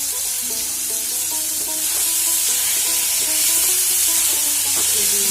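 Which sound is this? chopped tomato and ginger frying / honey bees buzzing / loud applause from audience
chopped tomato and ginger frying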